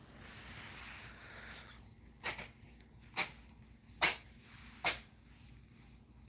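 A sleeping dog gives four short snorting sneezes spaced about a second apart, sharp and close against a quiet room background.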